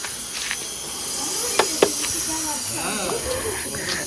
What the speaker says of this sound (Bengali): এই সিটি পড়ছে, সিটি পড়ছে,